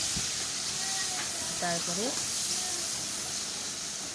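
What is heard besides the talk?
onions frying in a pan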